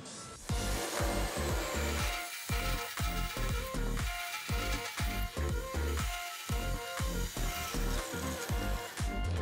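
A marking gauge scribes a line along a piece of wood. Close scraping strokes come in an uneven rhythm throughout, fairly quiet, with no talking.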